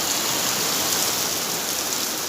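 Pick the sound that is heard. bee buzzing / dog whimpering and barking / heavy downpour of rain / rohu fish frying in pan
heavy downpour of rain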